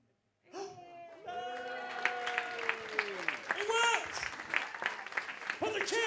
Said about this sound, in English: Before the applause dies down.